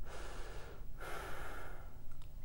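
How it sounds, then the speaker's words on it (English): Steady nasal breathing from a person holding the tongue stuck far out while cleaning it, a close, continuous airy rush with a brief pause before resuming, heard alone without talk. "I'm able to stick my tongue clear out while still breathing exclusively through my nose"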